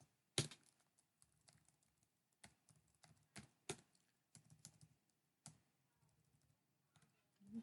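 Card details are typed on a computer keyboard as scattered, quiet keystrokes that come in short bursts and pauses, close and alone.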